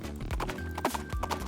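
Horse hooves clip-clopping in a steady trotting rhythm, loud and close, with repeated sharp knocks over a busy background.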